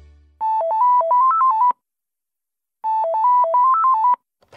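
A telephone rings before the call is picked up, playing a clear electronic melodic ringtone twice, each short tune of stepped beeping notes followed by a pause of silence.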